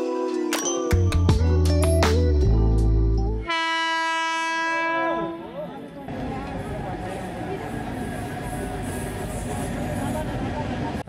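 A superfast train near a small station before Prayagraj sounds a loud, close horn in several long blasts, then settles into a steady heavy rail rumble with clattering carriages.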